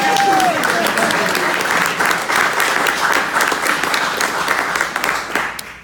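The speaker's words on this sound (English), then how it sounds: "we can clap for Aretha" Audience at a Second City stand-up comedy show breaks into loud, sustained applause, dense and even throughout, with a brief vocal sound at the very start.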